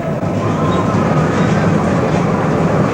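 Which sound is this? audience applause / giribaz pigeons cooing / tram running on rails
tram running on rails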